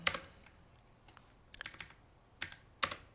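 Computer keyboard typing numbers into a program, a few sparse clicks and short key bursts, quiet and close, with no speech.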